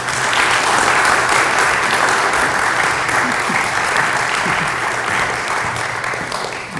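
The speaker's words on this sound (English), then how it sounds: "We'll see if you applaud later." Audience applause at a business hall of fame induction ceremony, a dense, steady wash of clapping from a full room that holds loud for several seconds and fades slightly toward the end.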